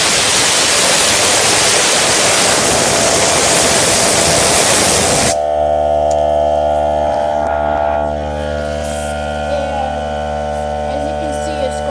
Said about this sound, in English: I'm gonna take my blower and